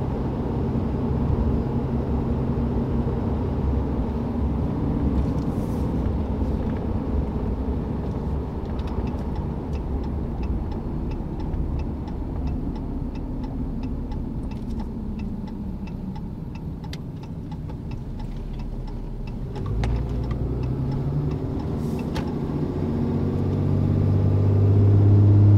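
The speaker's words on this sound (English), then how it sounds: "very impressed with the way the KARNAGE muffler sounds, and it gives the diesel just that little push over the edge where it sounds fun" A RAM 2500 with the 6.7 Cummins diesel and a KARNAGE performance muffler idles with a deep, steady exhaust rumble and light ticking, then rises in pitch and loudness as it revs toward the end.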